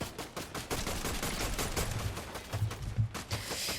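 Rapid, repeated gunfire bursts from a Fortnite match, sharp cracks running steadily throughout at moderate loudness with dense overlapping shots and no talk.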